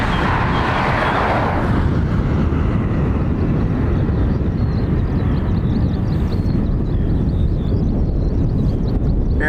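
An Airbus A321neo airliner departing Dublin Airport for Heathrow, a loud sustained engine roar that swells early and then holds as a broad rumble with wind buffeting.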